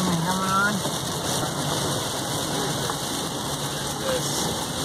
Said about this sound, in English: Got us a little bit of rain coming on.